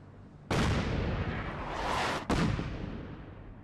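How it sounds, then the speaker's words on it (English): Artillery in Fallout 4, a wasteland packed with many guns, lets off a loud, sustained roaring barrage that stops for a moment near the middle and then booms on again. "Notice how many shots it does? That's because I have a lot of artillery set up around the wasteland."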